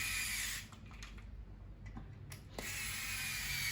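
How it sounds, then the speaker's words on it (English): Screwdriver turning the two screws that hold the black part of a Saeco Philips coffee machine brew unit, a few small ratcheting and clicking sounds over a steady background hum; no speech. "and screw it, because it holds by 2 screws"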